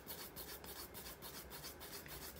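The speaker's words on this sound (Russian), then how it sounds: "I check the surface with the file." A nail file working over a Lexan gel nail surface: quick, even rasping strokes repeat about five times a second, soft but close, with no talk.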